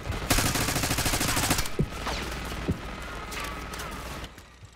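Dense automatic gunfire in Call of Duty Black Ops 6, a rapid loud burst of shots for the first second and a half, then scattered single shots and ongoing combat noise.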